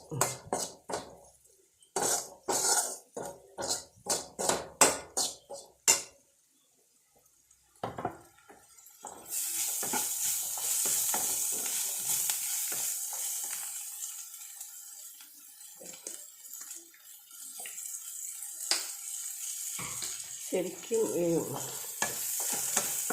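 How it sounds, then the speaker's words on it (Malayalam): Bitter gourd fries in a hot pan and is stirred. Scraping and clinking stir strokes come first, then a steady, close, loud sizzle runs continuously to the end. "വറുത്തെടുക്കണം ഈ പാവയ്ക്ക"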